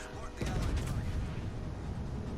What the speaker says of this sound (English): So I'm going to take a quick shot at the New York.